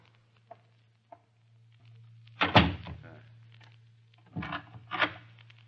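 A door is closed in an old manor radio drama, with a couple of small knocks, then a heavy thunk and shuffling, followed by further bumps against a steady low hum.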